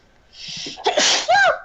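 A single loud sneeze, a quick breathy intake followed by a sharp explosive burst, close to the listener.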